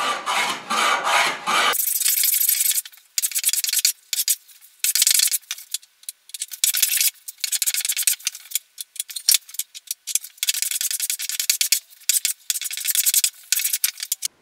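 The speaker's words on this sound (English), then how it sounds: "I'm going to quickly run a plane over this, both sides, get it flattened off, clean it up a little bit" A hand plane is pushed across a wooden SG junior style guitar body to flatten it, giving a long run of sharp, rasping shaving strokes in irregular bursts, close and loud, with no talk.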